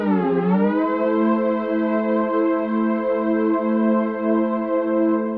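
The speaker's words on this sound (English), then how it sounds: "that means that the pad sound is now constantly moving in the pitch" Sustained Korg Pa5X synth pad with a subtle LFO gently wavering its pitch, a rich harmonic tone that swells in and holds steadily at moderate loudness without any voices.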